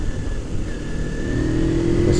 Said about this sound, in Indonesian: masih banyak truk yang lewat sini